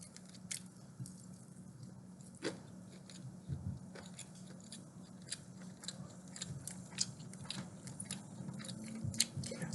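Close, quiet chewing of KFC chicken strips, with soft crunching and squishy bites repeating unevenly through the stretch, alone with no talk.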